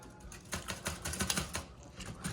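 Keys are struck one finger at a time on a vintage manual typewriter, sounding as a quick run of soft, close clacks over quiet room tone.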